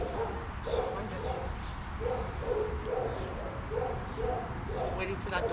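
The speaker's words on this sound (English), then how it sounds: "Just waiting for that dog to pass." A dog barks in a few short, repeated bursts as it passes nearby outdoors during a walk, with a trainer talking over the barking and birds faintly in the background.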